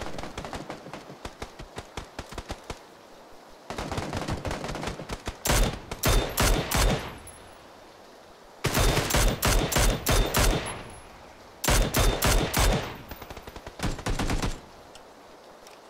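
Gunfire in the video game PUBG: loud bursts of automatic fire arrive in several separate volleys, with quieter stretches of single shots and ambient game sound between them, and no voices.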